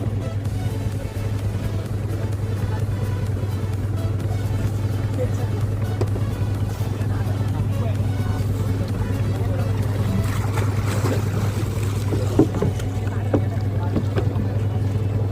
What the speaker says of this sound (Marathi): तर काही आता आपली बोट निघालेली आहे.